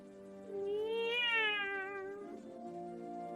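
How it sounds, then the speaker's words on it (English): A single drawn-out cat meow, rising and then falling, clear and fairly close, alone without any talk. "Look, cats! They're so cute. Meow."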